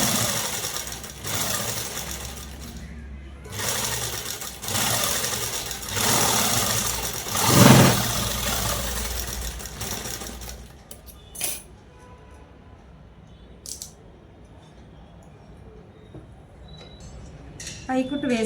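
A sewing machine top-stitches a dress lining in bursts of mechanical whirring, with a sharper clunk midway, then falls quieter with light handling sounds; someone speaks over parts of it.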